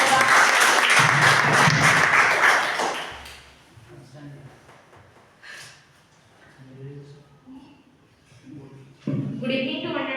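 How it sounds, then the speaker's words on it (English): Classroom applause for a student in a spoken English class: a burst of many hands clapping loudly for about three seconds, then fading into quiet room noise with talking and small shuffles. "Claps to Adiba."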